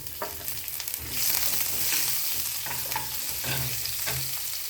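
Green chili goes into hot oil already sizzling with mustard seeds, cumin and a pinch of asafoetida, a steady close sizzle with a burst of louder frying and light stirring scrapes.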